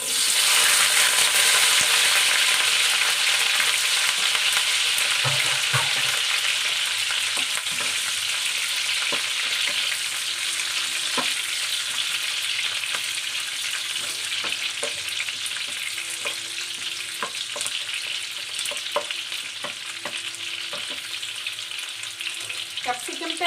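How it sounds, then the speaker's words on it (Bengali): Capsicum frying in hot oil for chilli paneer, a loud hiss that bursts up as the pieces go in and then settles into a long steady sizzle with scattered clicks and stirring, no speech. "তেলটা আমার গরমই আছে, তো আমি তেলের মধ্যে ক্যাপসিকাম ছেড়ে দেবো।"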